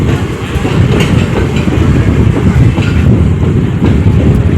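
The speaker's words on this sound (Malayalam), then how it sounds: "ട്രെയിൻ കാണിച്ചു തരാം" A train passes at Veli in Trivandrum, its steady loud rumble and clickety-clack of wheels over rail joints filling the whole stretch without pause.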